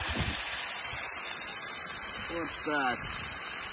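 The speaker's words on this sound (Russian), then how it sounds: "Перемешиваем, обжариваем все вместе." Meat and onions fry together in a pan with a steady, close hissing sizzle throughout, while a voice speaks briefly near the end.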